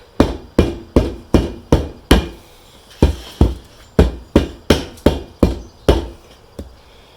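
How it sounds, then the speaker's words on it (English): A mallet or hammer taps a tire bead down into the groove of a beadlock wheel, about fifteen sharp, evenly spaced knocks in quick succession, close and loud with no talking. "go around the tire, tap it all the way around until the bead is down in that groove all the way around"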